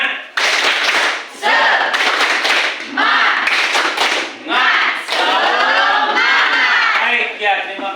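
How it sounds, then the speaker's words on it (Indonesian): A class of students does a 'tepuk semangat' spirit clap, several loud bursts of rhythmic group clapping mixed with shouting voices, separated by short pauses. "Mari kita tepuk tangan, tepuk semangat dulu ya."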